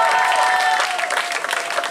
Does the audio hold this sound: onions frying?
no